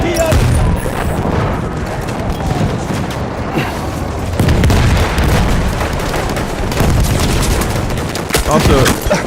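Automatic gunfire in Battlefield 1, dense sustained bursts and booming explosions filling the whole stretch, loud and continuous with a voice talking over the battle.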